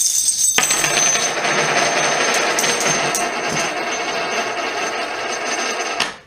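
Silver Maple Leaf and French Hercule coins rattling and clinking together, a continuous close jangle of metal on metal lasting several seconds before stopping abruptly.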